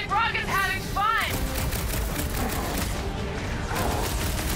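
Guns firing in a chaotic space battle in Marvel's Guardians of the Galaxy, a dense continuous wash of gunfire and blasts with game effects, under brief chirpy voice-like bursts at the start.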